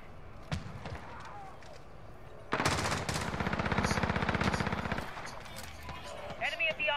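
Fire shotgun shots in Call of Duty: Modern Warfare, heard as a loud, rapid string of close blasts lasting a few seconds, with a few scattered single shots around it and voices talking.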